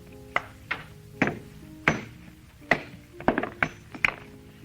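A hammer strikes a stone to split it along a fissure, giving about ten sharp, close knocks at an uneven pace, some in quick doubles, over a low steady hum with no talking.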